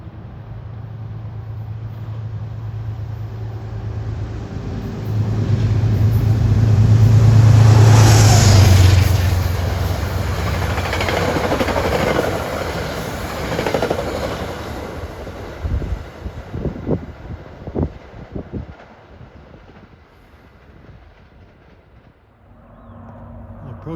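Metro-North non-stop train from Grand Central to Beacon passing at speed, a rising roar that peaks and fades into clattering wheel knocks, loud and close with no talk.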